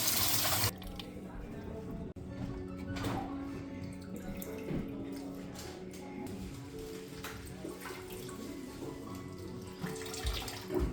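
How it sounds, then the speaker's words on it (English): Fresh cilantro soaked and swirled in a basin of water to wash out sediment makes a steady close sloshing and running-water wash with small splashes, while someone talks over it. "I like to soak it and like move it around, get all the sediment out, and then lift it out"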